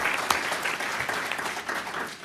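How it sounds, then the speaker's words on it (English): Audience at a comics forum keynote applauds the panel coordinator, a steady, dense round of clapping that holds at even volume throughout with a few sharper claps near the start. "Let's give him a round of applause."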